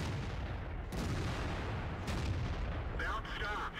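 A deep, booming tank gun blast from the World of Tanks game sounds around the one- and two-second marks over constant engine rumble, followed by a crackling hit on a Panther tank.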